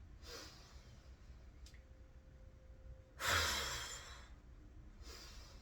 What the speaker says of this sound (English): So you breathe in, and you can huff it out.